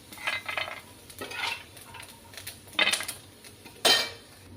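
Roasted coconut pieces scraped out of a pan onto a plate with a utensil, making several short metallic scrapes and clinks close by, separated by brief pauses.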